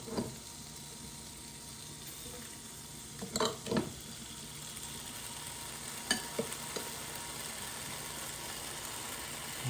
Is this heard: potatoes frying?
yes